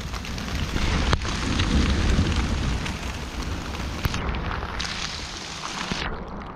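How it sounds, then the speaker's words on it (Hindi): Steady heavy rain pours down in a mountain forest in Uttarakhand while low rumbles of thunder roll underneath, with a couple of sharp cracks standing out. "तो आसमान भी कड़क रहा है, बारिश भी हो रही है।"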